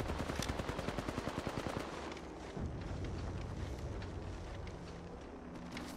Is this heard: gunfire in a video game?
yes